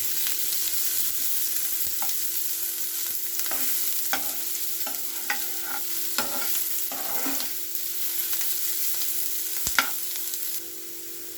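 Onions frying in a pan until golden brown, a continuous close hiss of sizzling oil with scattered soft taps and scrapes of a spoon stirring throughout.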